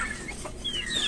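A backyard chicken suffering from a cold gives a few soft, brief clucks and squeaky calls, close by and fairly quiet, with no talking.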